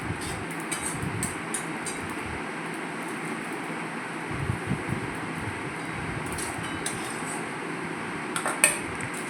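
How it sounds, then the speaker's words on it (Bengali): Poppy seeds dry-roasting in a pan with no oil, giving a steady close rustling hiss with light intermittent scraping and clinks of a utensil against the pan. "বেশ কিছুটা পোস্ত আমি একটু শুকনোভাবে ভেজে নেব তেল ছাড়া"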